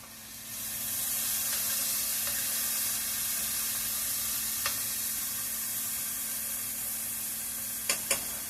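Onions sizzling and frying steadily in a pan while cooking down, a continuous close hiss with a few faint clinks from stirring.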